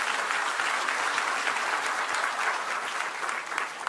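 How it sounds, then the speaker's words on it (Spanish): A congregation at a Spanish-language church service applauds, giving steady, full applause from many hands that fills the room without pause. "denle un fuerte aplauso al Señor."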